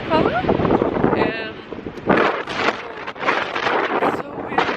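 Strong gusts buffet the microphone beside an Iceland waterfall, roaring and rumbling in uneven surges under excited talking.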